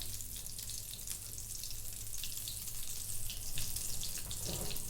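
Cumin seeds hitting hot oil in a pan for a chickpea curry, a soft steady hiss and crackle with faint watery splashing near the end, fairly quiet and with no voices.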